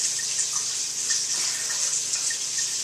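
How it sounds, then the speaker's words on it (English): Tap water running steadily from a kitchen faucet as a paper towel is wetted, a continuous close hiss and splash with faint dripping detail, no voices. "Take a paper towel, get it wet, squeeze out the excess water"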